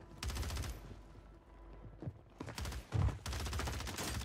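Gunfire in Call of Duty Warzone on Rebirth Island comes in rapid automatic bursts separated by short gaps, some near and loud, others quieter, with a heavy thump near the end.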